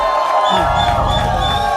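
Audience on a comedy game show claps and cheers, a dense continuous roar of applause and shouts filling the whole stretch at steady loudness.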